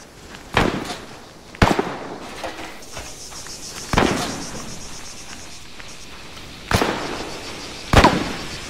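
Gunfire from weapons training in Arma 3 cracks out as isolated loud shots, five in all, spaced a second or more apart and echoing over a quiet background with insects chirping.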